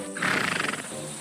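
A horse lets out a single close, loud neigh, a quavering whinny that lasts about a second and then fades.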